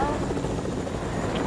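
A video game helicopter drones continuously with a loud, dense rotor roar that fills the whole stretch.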